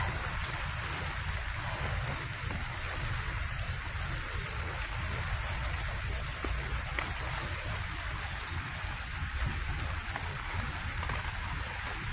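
Steady rain falls in a home garden with strawberry plants and sedums, a dense, even hiss of drops and pattering continuing throughout at close range with no talk.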